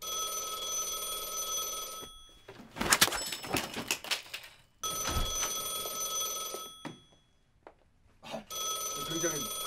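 A telephone rings urgently in a tense drama scene, in loud repeated bursts of electronic ringing separated by pauses, with dialogue and other sounds between the rings.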